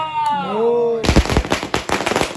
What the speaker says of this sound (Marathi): आम्ही आता फटाके लावतो इथे